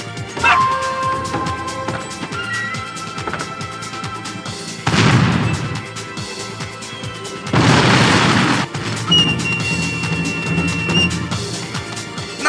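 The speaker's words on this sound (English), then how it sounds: "those cannons will kill us all!" Cannon fire in the PS2 game Samurai Warriors 2: Xtreme Legends during an assault on Osaka Castle, two heavy, loud booming blasts a few seconds apart over clattering battle noise and game music.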